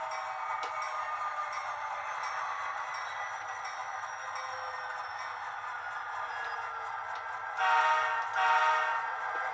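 A steady mechanical rumble of a model train running continuously on a layout, with a brief louder burst near the end; no talking.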